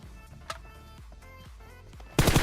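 Gunfire in the battle game PUBG: several sharp shots spaced about half a second apart, fairly distant and moderate in level, ending in a sudden louder burst of noise.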